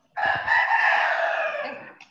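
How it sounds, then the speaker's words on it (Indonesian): A chicken kept at a family home gives a single loud, drawn-out call, closer to a rooster's crow than a cluck. It is near and clear, lasting about two seconds with no voices over it. "Ada suara ayam"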